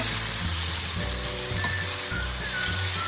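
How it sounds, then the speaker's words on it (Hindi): Masala for dal makhani sizzles steadily in desi ghee, a dense, even crackle that holds close and loud throughout with no voices. "तो अब ऑलमोस्ट हमारा मसाला कुक है, ऑयल अलग होना शुरू हो चुका है।"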